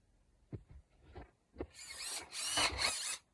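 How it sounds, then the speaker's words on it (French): A power drill in a home workshop, preceded by a few soft knocks and handling taps, then whirring up in a loud, close burst of about a second. "Je branche ça sur la perceuse et c'est parti."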